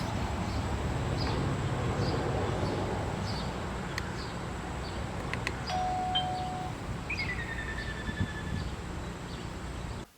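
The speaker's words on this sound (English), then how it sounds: "If they push the button, you can allow them to hear a chime as well." An outdoor chime from a Skybell Trim Plus video doorbell, heard as a few clear ringing tones over steady background hiss, moderately loud.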